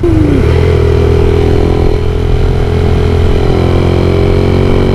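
Near and loud, the engine of a VF3i motorcycle with an aftermarket exhaust rumbles steadily at a low, even pitch after a short rev drop at the start, holding a constant drone with a slight clattery edge.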